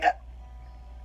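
A single short hiccup from a woman, close and fairly loud, followed by a faint steady hum.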